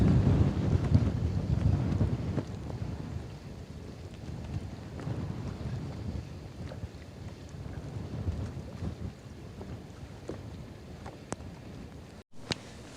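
Wind gusts across an open lake during kayak fishing, buffeting the microphone with a steady, loud roar that eases slightly over time, with faint water lapping beneath.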